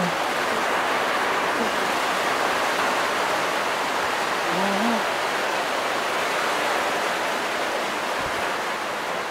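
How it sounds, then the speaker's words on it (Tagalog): Steady, heavy rain falling outdoors, a dense, even hiss that fills the whole stretch without pause, with a brief faint voice surfacing once in the middle. "Maingay mga kabayan, umuulan"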